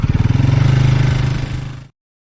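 Bajaj Pulsar NS200 BS6 motorcycle engine running steadily while riding, a close, loud pulsing drone lasting under two seconds before it cuts off abruptly.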